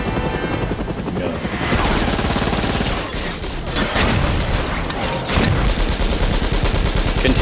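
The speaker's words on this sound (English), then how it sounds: "Continuing to shoot with the minigun-mounted helicopter as the agents hit." A helicopter's rotor throbs beneath continuous rapid fire from its mounted minigun in a movie scene, a loud, dense stream of shots with heavy impacts mixed in.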